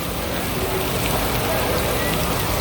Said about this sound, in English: This is how hard it's raining.